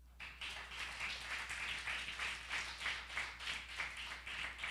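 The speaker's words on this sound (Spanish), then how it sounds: "Den un aplauso al Señor." A church congregation claps together in a steady, rhythmic beat, many hands striking in unison over a low constant hum, moderately loud and continuing without pause.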